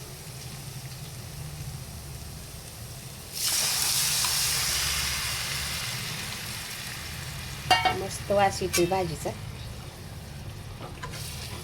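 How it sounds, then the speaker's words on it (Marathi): Hot tempering poured into a vegetable curry bursts into a loud, close sizzle that slowly fades, followed by a person speaking briefly. "फोडणीला त्याला ओतून घेऊया"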